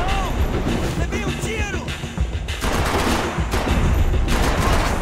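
Sustained gunfire from Max Payne 3 as dense, continuous volleys of shots and impacts that stay loud throughout, with a voice speaking at times over the shooting.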